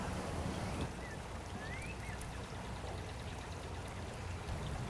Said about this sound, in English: this waterfall empties the first pond